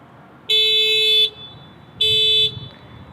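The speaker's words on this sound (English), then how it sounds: "So it flashes the lights, it beeps the horn." Two loud, sustained electronic horn blasts from a 2018 Honda Clarity Touring's panic alarm, each lasting under a second, separated by a short pause with quiet outdoor background.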